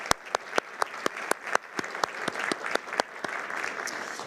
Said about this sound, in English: I'd like to start really quickly by us giving them both a round of applause